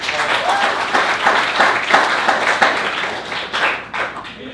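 Audience applause at a live comedy theater show: sustained, dense clapping from a full room, loud and close, tapering slightly toward the end.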